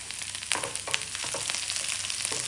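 Onions tossed into hot oil where mustard seeds are popping, for a Kerala-style beans stir-fry, giving a steady close sizzle with small crackles and stirring scrapes throughout, no voices.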